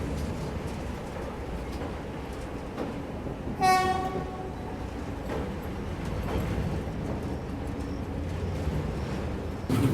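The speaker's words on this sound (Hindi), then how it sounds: "ट्रेन इसको बहुत ही स्लो रफ्तार में स्किप कर रही है" A train creeps slowly past Pathankot Cantt station with a constant low rolling rumble and clatter, broken by one short horn blast early on; no voices.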